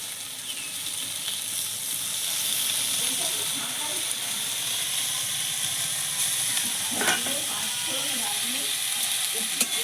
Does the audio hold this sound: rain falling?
no